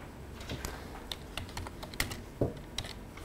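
Typing on a computer keyboard during a lecture, a rapid irregular patter of crisp key clicks with a few louder taps, close and alone without speech.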